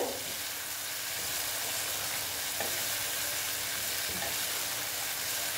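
A spice paste with grated ginger sizzles steadily while it is sautéed in a pan for soya chunk kofta curry, a loud, even frying hiss broken by a few faint stirring scrapes, with no talking.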